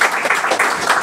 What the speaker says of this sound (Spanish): fuerte aplauso para Miquel